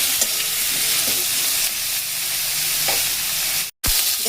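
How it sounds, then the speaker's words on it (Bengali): Eggplant and potato pieces fry in a pan with a steady, loud sizzle and hiss, broken by a few faint stirring scrapes and one brief dropout near the end. "এবারে এগুলোকে একটুখানি ভেজে নিতে হবে।"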